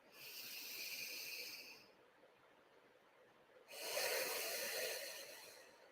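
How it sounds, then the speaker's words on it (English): Two slow, deep belly breaths, in through the nose and out through the mouth, each a soft airy rush lasting about two seconds, close and alone with a quiet pause between them. "take 3 deep belly breaths."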